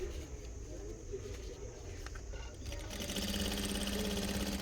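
A sewing machine stitches a belt onto a sari, its steady rapid whir getting louder and denser in the last second and a half, with quieter handling sounds before it.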